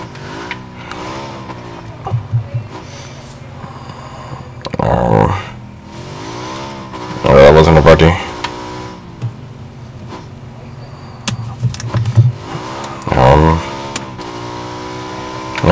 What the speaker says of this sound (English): I think I see a buggy.